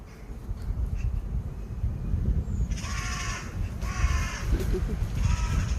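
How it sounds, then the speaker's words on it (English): Several crows caw from up in a tree, repeated harsh calls in short bursts over a rough, breezy background, moderately distant and clear. "Lot of crow up there."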